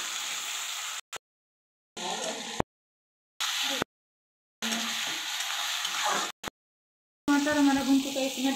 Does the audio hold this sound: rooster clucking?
no